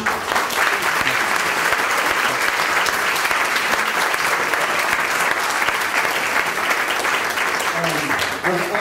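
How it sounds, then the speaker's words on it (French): After a history lecture, the hall fills with sustained, vigorous applause from the audience, thick even clapping at a steady level for about nine seconds, with faint voices showing up toward the end. "je pense que vous méritez des applaudissements vraiment fournis"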